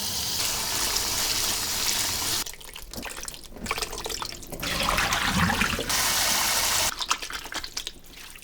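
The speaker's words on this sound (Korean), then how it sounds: "물에 깨끗이 3번 정도 헹궈 씻어주고" Fresh spring mugwort rinsed under running water in a sink. Tap water runs loud and steady, breaking off into short gaps filled with splashing and sloshing as the greens are swished, then flowing again, with no talk.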